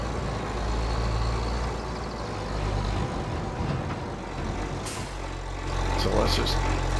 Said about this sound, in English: I should just pull the truck forward just to be safe.